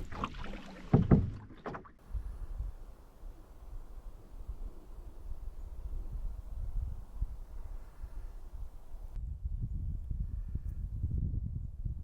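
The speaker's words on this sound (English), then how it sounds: "Just about to paddle through the pinch point on Dudney Lake" A canoe paddles on Dudney Lake with soft, low water swishes and a faint hollow wash, quiet and close, after a brief louder knock at the start.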